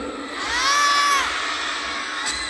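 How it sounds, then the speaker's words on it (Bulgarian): A big crowd of children at a Hot Wheels Monster Trucks Live Glow Party show shouts and cheers loudly together, rising to a sustained roar with shrill whoops before easing slightly. "Айде да пробваме да извикаме силно, дали ще го събудим."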